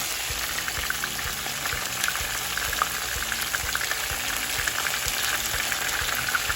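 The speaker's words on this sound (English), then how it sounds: "And cook it up my garlic" Garlic and tomatoes fry steadily in a pan for a Jamaican breakfast, giving an even, continuous sizzle with small crackles and occasional faint stirring clicks. No one speaks.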